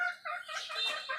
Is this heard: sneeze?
no